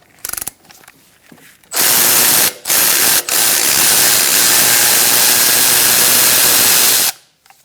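A ratchet works the brake hose bracket bolt on a 2012-2018 Ford Focus during a front strut replacement, a loud, steady mechanical rasp running close for about five seconds after a few short knocks, with two brief pauses.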